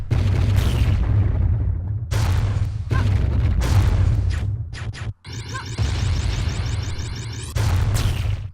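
Heavy explosions from the General's charged attack in the Iji video game: loud, dense booming blasts that fill nearly the whole stretch, broken by a couple of brief gaps and sharp crackling bursts.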